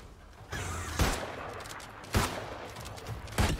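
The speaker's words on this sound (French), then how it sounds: "Tu peux enchaîner les tirs, en fait, quasiment sans recharger." Rapid musket fire in the video game New World: three loud, sharp shots spaced about a second apart over a steady background ambience, with no talk.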